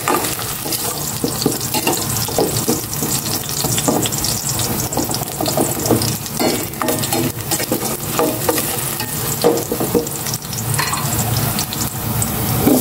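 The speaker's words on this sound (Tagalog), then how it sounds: "Bawang, gisa ko na rin." Garlic sautéing in a hot pan for chicken tinola, a steady close sizzle with frequent stirring scrapes and clatters throughout, no voices.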